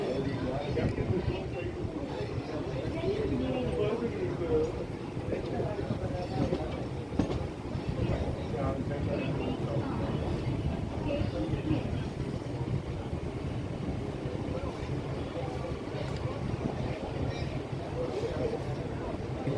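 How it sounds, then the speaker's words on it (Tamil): Express train pulling into Park station on the Egmore to Beach line in Chennai, a steady loud rumble of wheels and rail noise with faint clatter, continuous throughout, with talk over it. "இப்போ பாருங்கள் ஃப்ரெண்ட்ஸ், ஒரு எக்ஸ்ப்ரெஸ் ட்ரெயின் வந்து நிற்கிது."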